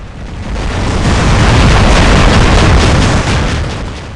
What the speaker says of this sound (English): people are shooting the robot, and it looks like that other robots are shooting other robots